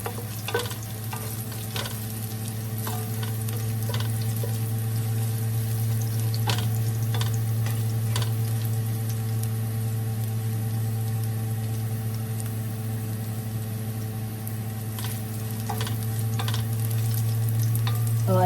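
Chicken browning in a pan for kinamatisang manok, a steady close sizzle and crackle with occasional clinks of a utensil, over a constant low hum, no voices.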